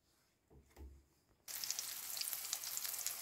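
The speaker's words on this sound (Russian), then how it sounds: "Будет жариться, потом переверну." Zucchini slices coated in beaten egg and semolina drop into a hot pan and burst into a loud, steady sizzle close by, after a few quiet handling knocks, with no talking.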